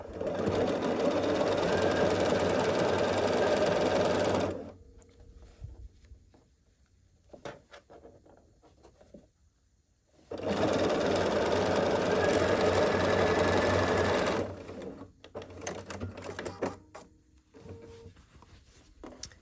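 A sewing machine runs a long final seam on a scrappy half-square-triangle quilt block, its loud steady motor whir lasting several seconds. It stops, fabric handling and quiet rustles follow, then another long continuous run and softer handling noises.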